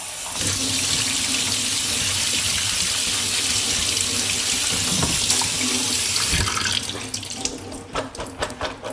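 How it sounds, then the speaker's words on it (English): Cold tap water runs steadily into a sink to rinse drained chickpeas, a continuous close splashing hiss that cuts off near the end, leaving scattered drips and light handling clatter. "And then rinse with cold water."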